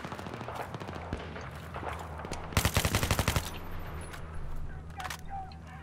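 Automatic gunfire in the multiplayer video game Battlefield 3, with one sustained burst of rapid shots standing out over a busy background of scattered distant shots and battlefield noise.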